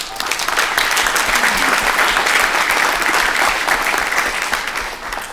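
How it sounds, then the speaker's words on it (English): A crowd claps steadily and enthusiastically, a dense wash of applause that holds for several seconds before tapering slightly at the end. "let's give these guys a big round of applause"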